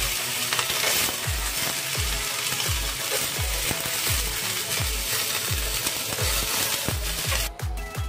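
Soaked chana dal is stirred and roasted in a hot pan, giving an even sizzle broken by regular scraping thuds from a spatula, about two per second, close up and with no talking.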